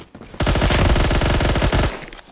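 M231 assault rifle firing in Phantom Forces, a loud sustained automatic burst of rapid evenly spaced shots lasting about a second and a half, alone with no talk.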